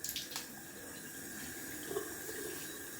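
Cold water runs from a tap during a wet shave, a soft steady hiss of flowing water with a few faint splashes, quiet and close by with no voices.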